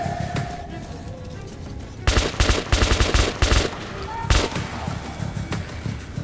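Bursts of rapid gunfire in Metro Last Light Redux, loud and close, with dense rattling volleys that stop and start and then thin into scattered shots over a noisy game background.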